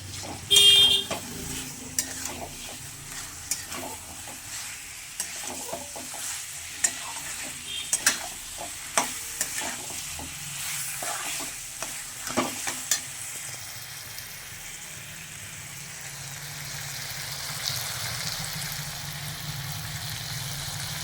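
Mutton with onion, garlic, tomato, turmeric and salt is sautéed and stirred in a pan, a low frying sizzle with irregular scraping and clattering strokes throughout, fairly close and quiet.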